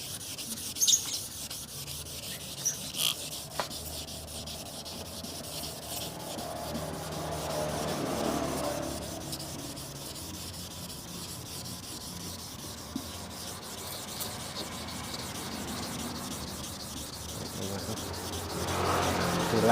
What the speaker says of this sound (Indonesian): Terus kita gosok pelan-pelan searah biar hasilnya lebih maksimal.